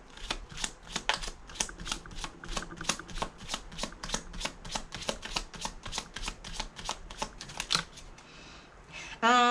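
A deck of tarot cards is riffled and shuffled in a steady rapid run of crisp flutters, close and clear, ending in a brief louder rustle.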